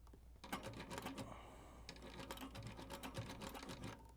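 A sewing machine stitching boot leather, running in close rapid clattering bursts with a short pause partway through, faint overall with no talk.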